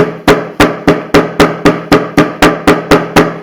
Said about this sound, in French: et vous pilonnez simplement avec un marteau